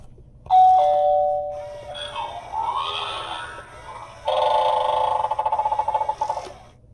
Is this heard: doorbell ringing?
yes